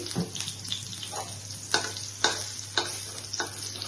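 Paneer pieces frying in hot oil in a pan for a Bengali paneer soyabean cashew almond curry, a steady low sizzle broken by several sharp stirring scrapes, fairly quiet and close with no voices.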